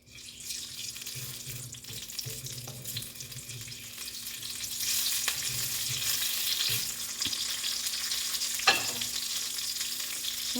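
Green and dry chillies frying in heated oil, a continuous close hissing sizzle that builds slightly over time, with occasional clicks and a sharp crackle near the end, no voices.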